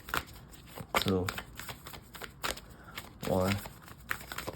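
Tarot cards being shuffled for a pick-a-pile reading, with rapid riffling bursts and papery crackles repeating close to the microphone, while a voice talks over the shuffling throughout.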